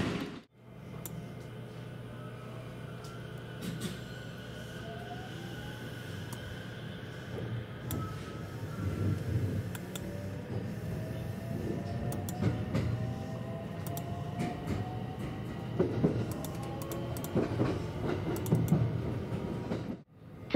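Hanwa Line rapid service train running toward Wakayama, heard from inside the car as a steady low rumble with rhythmic clickety-clack of wheels over rail joints, continuous and moderately loud for the whole stretch, with no talking.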